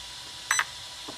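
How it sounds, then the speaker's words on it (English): A short electronic beep from an RC car's electronic speed controller in setting mode, a quick double chirp, with a faint lower blip after it. "1 beep means we're in setting 1"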